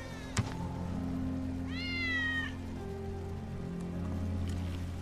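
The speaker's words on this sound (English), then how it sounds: "That's Wedge's cat." A cat in Final Fantasy VII Remake gives one clear, drawn-out meow, nearby and moderately loud, over a steady ambient hum and faint patter like rain.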